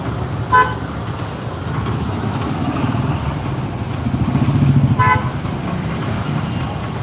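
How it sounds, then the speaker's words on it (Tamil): Heavy road traffic rumbles steadily with engines of cars and motorbikes, and two short horn toots sound a few seconds apart over the constant drone. "ஃபுல்லாக ரோடு ஃபுல்லாக சரியான டிராஃபிக்"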